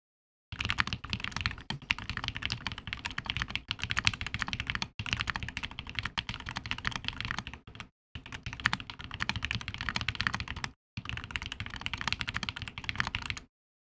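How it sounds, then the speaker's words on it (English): Typing test on a MODE 65 mechanical keyboard fitted with GMK keycaps, a dense close-up run of rapid keystroke clatter in several bursts separated by brief pauses, with no voices. "I need to do another typing test."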